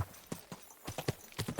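Horse hooves clip-clopping in the medieval game Kingdom Come Deliverance 2, irregular close hoofbeats picking up in pace, with a faint snort and a brief voice nearby.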